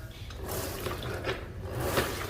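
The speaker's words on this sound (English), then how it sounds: "You can hear the water coming out of the mop." Water sloshing and trickling from an O-Cedar spin mop inside its bucket, a steady close liquid wash with a few splashy surges and no talking.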